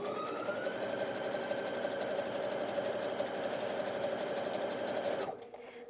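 A Brother Innov-is NV1800Q sewing machine runs a steady stitch, its fast even whirring and needle rattle continuous and close before it cuts off near the end.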